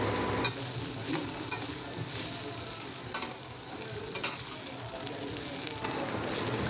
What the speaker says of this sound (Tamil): ரைஸ் ஆட் பண்ணோடனே லைட்டாக ஒரு கிளறி விடுங்க